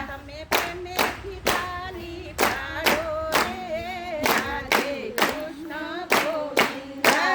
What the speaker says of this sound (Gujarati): તમે પ્રેમેથી તાળી પાડો રે રાધે